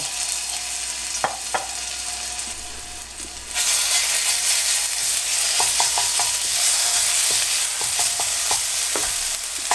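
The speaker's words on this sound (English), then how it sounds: "Then in the wok, I'm just going to add a little bit of ginger and garlic." Ginger and garlic sizzling in a wok, a loud, steady close-up hiss that jumps in intensity partway through, with scattered stirring clicks and no talk.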